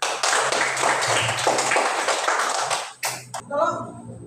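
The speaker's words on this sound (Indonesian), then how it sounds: "Nah, kita tepuk tangan." Children in a classroom clap their hands together, a few seconds of brisk, dense clapping that stops abruptly, followed by a teacher's voice.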